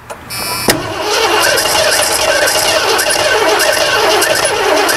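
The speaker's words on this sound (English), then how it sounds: "Let's try cranking. That's residual gas." Car engine cranking on residual fuel, with a brief starter burst near the start and then a steady, loud mechanical roar that continues without a break.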